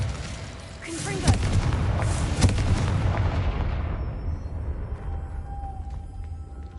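A Confringo explosive spell blasts in Hogwarts Legacy, a loud booming detonation with a sharp crack followed by a second burst, then a long rumbling decay fading into quieter ambience.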